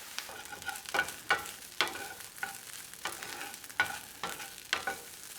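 Tempeh cubes and ground tempeh sizzling in a frying pan while being stirred and flipped, with soft scraping strokes repeating over a steady fry; fairly quiet and close, no speech.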